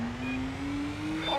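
A car in the Stuntman video game drives into a tunnel, its engine a steady, rising drone with a whir on top. The engine is close and continuous, with no talk over it.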